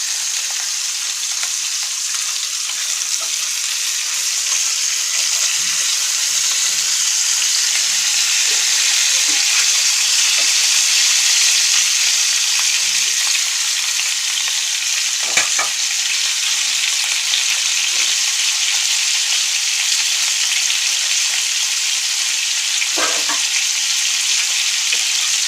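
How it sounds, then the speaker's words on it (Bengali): Pieces of fish fry in hot oil in a pan for a fish-head dish, a loud, steady close-up sizzle with a few sharp pops and crackles. "এখন এই নিচের এই পাশটা খুব ভালোভাবে একটু মোটামুটিভাবে ভেজে নিয়ে আমি মাছগুলোকে তুলে নেব"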